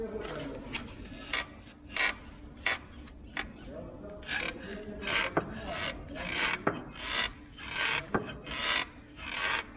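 Repeated dry creaking and rasping bursts from a Jetta's suspension control arm, irregular and close, over a low rumbling background with a faint voice here and there.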